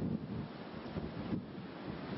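Tramontana storm on the Mallorca coast, strong wind buffeting the microphone over rolling surf and crashing waves, a steady faint roar with gusty bursts and no talk.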